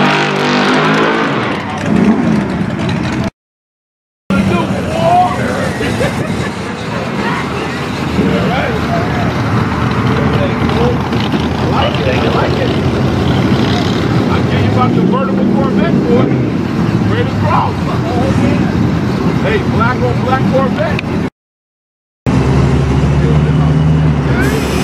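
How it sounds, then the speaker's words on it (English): Race cars run at Irwindale Speedway on a Thursday evening. A loud, continuous engine roar fills the whole stretch, apart from two brief dropouts, and voices can be heard faintly now and then. "They starting to run the cars."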